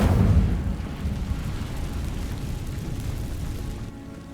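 An Incendio fire spell igniting dry vines in Hogwarts Legacy, a low rumbling whoosh of flame that bursts loudly at first and then settles into a steady crackling roar.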